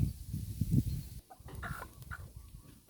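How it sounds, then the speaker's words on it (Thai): Chickens cluck and murmur close by in short, low bursts, with a few higher calls later on a quiet farmyard background. "นี่ก็จะเป็นไก่"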